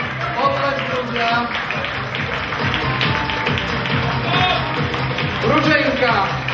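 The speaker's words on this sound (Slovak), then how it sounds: "Potlesk ľudia." Audience applause at a beauty pageant, a dense steady patter of many hands clapping throughout, with voices and crowd noise mixed underneath.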